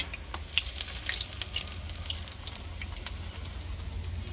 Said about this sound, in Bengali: এমন করে সবজি ভেজে নেব।